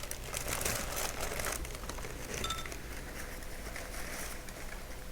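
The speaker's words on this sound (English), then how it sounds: "We make some crumbling noises here as I put some paper away" Paper is crumpled close to the microphone as it is put away, giving irregular crinkling bursts and small clinks at a fairly quiet level with no talking.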